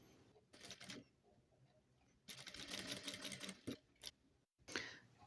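Sewing machine stitching a seam on black fabric aligned with yellow for a bag, quiet bursts of rapid mechanical whirring separated by brief pauses, faint and close.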